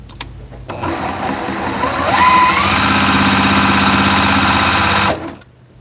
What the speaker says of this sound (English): I wasn't sewing for like 20 minutes not knowing I was out of thread